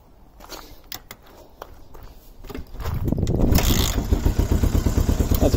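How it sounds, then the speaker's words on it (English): A 1975 Honda CL360 motorcycle is kick-started: several scuffing kicks and clicks, then the engine catches and settles into a loud, close, rapid idle. "That's the first kick."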